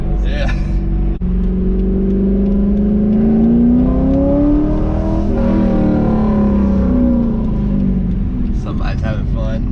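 A C8 Corvette pulls hard under acceleration, its engine note climbing in a rising drone that sweeps upward then eases, loud and close from inside the car, continuous with no talk.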